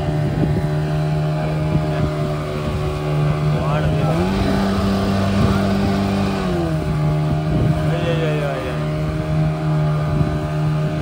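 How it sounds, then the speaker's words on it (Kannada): A boat runs on water with a steady engine drone that rises in pitch partway through, heard with wind noise. "ದೋಣಿ ಓಡ್ತಿಗೆ ಅದೆ"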